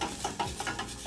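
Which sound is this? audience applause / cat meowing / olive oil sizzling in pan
olive oil sizzling in pan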